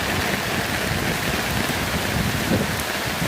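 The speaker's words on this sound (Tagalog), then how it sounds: "Kusog kayo ang ulan nya, kusog gyud kayo ang hangin." Heavy rain pours down steadily with strong wind, a dense, continuous wash of loud hiss and drumming on surfaces that never lets up across the few seconds.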